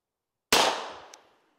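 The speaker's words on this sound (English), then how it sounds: "I'm going to shoot it single action" A Smith & Wesson M1917 World War I revolver is fired once in single action: one sharp, loud report that rings out and fades over about a second, with no talk.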